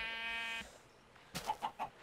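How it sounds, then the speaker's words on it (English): A sheep in the video game Minecraft gives a short series of quick, quiet bleats after a brief tonal game sound. "There's sheep here."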